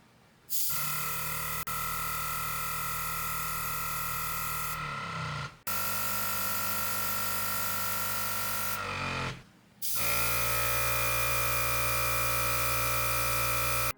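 A Gaahleri GTS-06 mini airbrush compressor runs with a loud, steady motor hum in three stretches, stopping briefly twice between them and restarting at a slightly different pitch each time.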